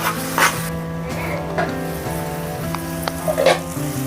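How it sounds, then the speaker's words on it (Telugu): Tomatoes fry with onions in a pan for Kurnool-style uggani, a low steady sizzle with a few soft stirring scrapes and clinks, close and without talking. "టమోటో కూడా వేసుకొని టమోటో కూడా కొంచెంసేపు ఫ్రై అవుతామండి"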